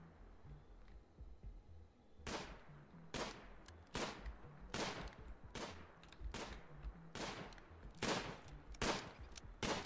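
Gunshots from a turkey hunt in the video game RimWorld: about nine sharp, evenly spaced cracks ring out over a faint, quiet background. Each shot is distinct and moderately close.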